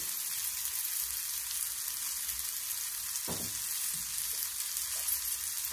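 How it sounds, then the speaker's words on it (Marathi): Onions frying in a pan for a spicy toor dal, giving a steady soft sizzle and crackle that holds evenly throughout, with one brief louder stir or clatter midway, close by and with no talk. "जरा छान असं भाजू द्यायचं, कांदा भाजला गेला पाहिजे."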